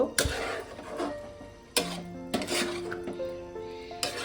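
A spoon scrapes and clinks against a pan while boiled chickpeas in chana masala gravy are stirred, with a few distinct metallic strokes and ringing knocks at irregular intervals; no voices.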